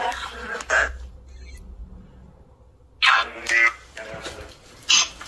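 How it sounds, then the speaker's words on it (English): Several short, rough bursts like coughing or throat clearing inside an abandoned care home, one early and a cluster after a quiet stretch, moderately loud against faint background hiss. "It sounded like maybe someone coughing or something."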